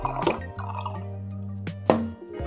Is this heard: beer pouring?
yes